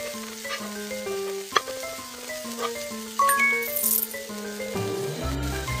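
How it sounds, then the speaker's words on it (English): Onions and garlic sizzle and rattle in a frying pan in a girls' cooking video game, a faint crackling under light game music tones. "Put onions and garlic into the frying pan."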